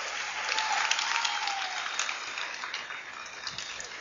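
A concert audience applauds and cheers for a singer, with dense steady clapping filling the space as a continuous, fairly loud wash that eases slightly toward the end.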